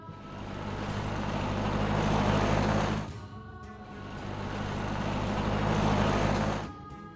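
A taxi in a monster truck kids' video game gives two rising engine drones that build in loudness and stop sharply, close and continuous, with no voices.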